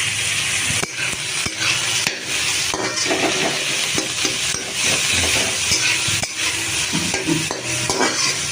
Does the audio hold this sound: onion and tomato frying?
yes